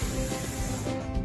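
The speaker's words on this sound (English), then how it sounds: "We use canola oil cooking spray so our food doesn't stick." A steady, close hiss of canola oil cooking spray lasting just over a second, with a slight tapering near the end.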